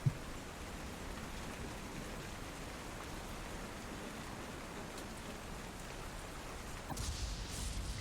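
Steady, even rain falls across a ship's deck on a rainy day at sea, a continuous hiss of drops on surfaces heard alone at moderate level, thickening slightly near the end.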